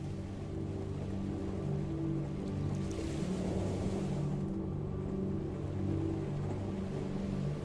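Steady water washes and laps continuously at a beach, a soft broad rushing with a gentle surge partway through, even and unbroken throughout with no voices.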